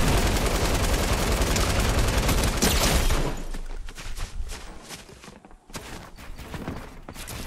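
Dense, rapid gunfire in Fortnite, loud and sustained at first, then thinning into scattered bursts and shots over quieter in-game ambience.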